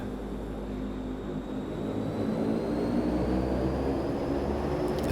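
DHC-8 Q400 turboprop engines spooling up for takeoff in a flight simulator, a low steady drone that swells gradually louder with a rising whine, near and alone.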